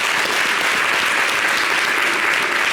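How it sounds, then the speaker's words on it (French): Studio audience on a French-language TV show applauding loudly, a dense continuous roar of clapping from start to finish with no pauses. "Merci, on applaudit bien fort."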